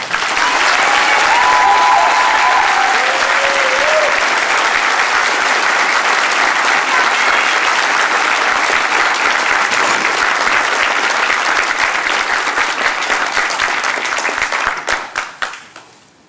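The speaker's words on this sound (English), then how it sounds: "Ladies and gentlemen, please give the awardees a round of applause." Sustained audience applause at an army graduation ceremony, loud and dense clapping from a large crowd with a brief whistle early on, gradually thinning into scattered claps before fading out.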